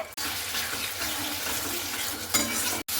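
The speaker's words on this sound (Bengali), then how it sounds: "এরপরে আলু বেগুনটা দিয়েও খুব ভালো করে কিন্তু এখানে আমি মশলাটার সঙ্গে কষিয়ে নিচ্ছি।" Potato and eggplant are sautéed with spices in a pan over a high gas flame, giving a continuous, close, loud sizzle with a brief scrape or two of the stirring spoon.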